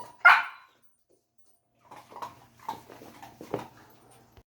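A dog being potty trained barks on command: one sharp loud bark, a pause, then a run of softer yips and barks close by, with no talking.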